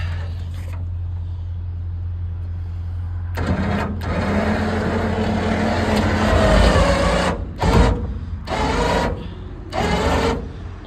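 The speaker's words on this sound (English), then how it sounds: "We have a bed mounted winch right here." Bed-mounted winch on a 2014 Chevy Duramax pickup whirring as it pulls through a snatch block, a loud steady motor drone that starts after a low idle hum and cuts on and off in short bursts near the end.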